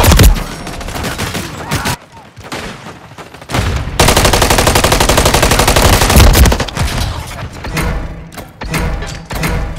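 Call of Duty MW3 gunfire, with dense, loud automatic bursts and overlapping shots in close succession, a short lull, then a long sustained volley, while soldiers shout in Spanish.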